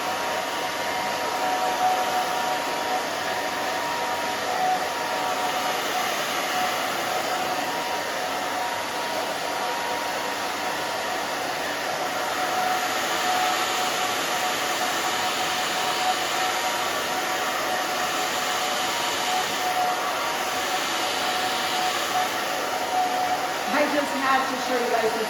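A handheld hair dryer blow-dries hair during a short bob haircut with a side undercut, a steady airy whoosh running throughout with slight shifts as it moves, under soft background talk.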